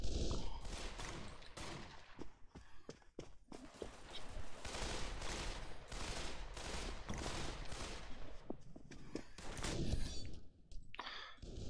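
Gunfire in the multiplayer shooter game Pavlov: repeated sharp shots and rapid bursts crackle throughout, fairly faint and distant-sounding, with uneven gaps between volleys.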